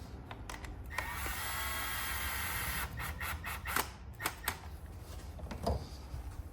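Power ratchet gun whirring steadily while tightening spark plugs on an Alfa Romeo 2.0T engine, a continuous buzzing run for about three seconds, then a series of short clicking and tapping bursts close by.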